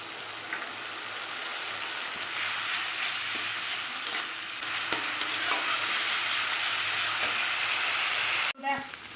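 Spice paste frying with softened tomatoes in a pan gives a steady, close, dense sizzle with occasional stirring scrapes and clicks, cut off abruptly near the end.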